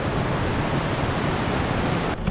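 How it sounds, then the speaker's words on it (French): A Pyrenees mountain waterfall and small stream send up a dense, steady rush of broadband water noise, loud and close, continuous with no voices. "Là je m'approche, il y a une cascade normalement, un petit cours d'eau."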